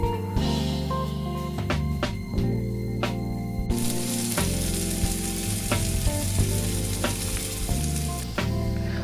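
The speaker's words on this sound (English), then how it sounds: "Slowly the onions are also getting caramelized." Chicken pieces and onions fry in a pan while the onions caramelize for a peanut butter chicken dish, giving a loud, steady sizzle with a scrape from stirring now and then. The sound is close and nobody speaks.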